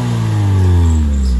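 A 2015 Maruti Suzuki Swift petrol engine is revved on the accelerator during a major service, a loud, close, rising engine tone that climbs steadily and then holds.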